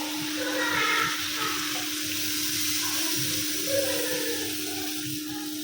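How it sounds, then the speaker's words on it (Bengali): Water poured into a pan of simmering eggplant curry to make the gravy, a continuous rushing pour with a steady low hum underneath and no voices. "এখন ঝোলটা দিয়ে দিলাম"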